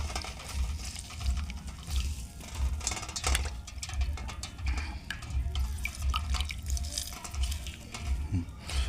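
Water drains off a batch of soaked soybeans being prepared for fried soybean fritters, a steady close-up trickle and splash running continuously with small drips and no voices.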